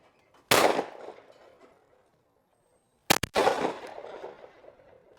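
Two loud shotgun blasts from a 32-inch Zoli Kronos sporting clays gun, the first sharp report followed by a decaying tail, then a quick double crack about two and a half seconds later, with no talking.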